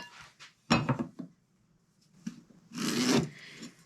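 Pencil or marker rasping across a 2x6 wood board while marking a shelf for cutting, a few short scratchy strokes close by with quiet gaps between them.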